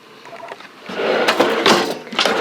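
A kitchen drawer in a 25-foot RV slides open with a rising wooden rumble and rattle of contents that grows loud in the second half, close by and without speech.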